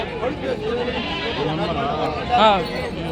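Goats bleat in wavering cries while people talk nearby at the Gudur livestock market, one louder bleat rising near the end.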